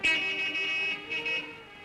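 A car horn honks in a long steady blare with a brief break, loud and close, along with traffic rumble.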